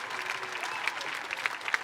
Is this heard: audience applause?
yes